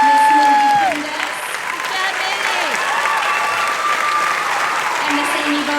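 Steady, dense audience applause at an elementary school awards event for the music teachers, a brief tonal squeal at the start, with crowd murmur mixed into the clapping.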